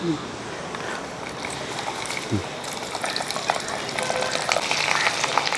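Steady crackling sizzle of garlic frying in hot oil, with faint stirring and soft voices underneath.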